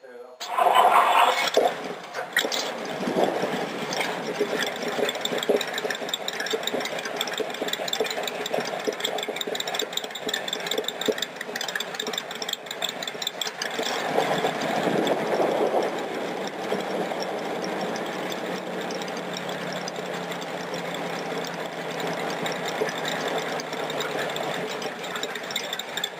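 Rat rod roadster engine cranking over after a shot of ether, then settling into a steady, loud idle with a busy mechanical clatter that runs throughout, strongest near the start.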